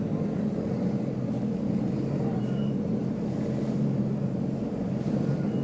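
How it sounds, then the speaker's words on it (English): Pro-class aquabike engines idle and build in a steady, dense drone across the water as riders wait for the race start, distant and continuous with no clear talk. "you can hear the engine starting to increase in the background as these guys get ready to go"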